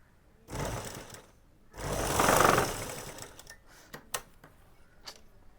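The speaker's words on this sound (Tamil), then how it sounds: "அது நான் உங்களுக்கு தைச்சிட்டு எப்படின்னு காமிக்கிறேன்." A sewing machine stitching gents' shorts, with a short burst of rapid stitching followed by a longer, louder run, then scattered clicks and taps from handling the fabric and machine.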